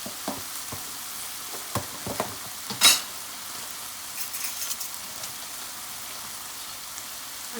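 Vegetable biryani stirred in a frying pan, a quiet ongoing sizzle with soft scraping and a few sharp knocks of the utensil, one louder clatter near the middle.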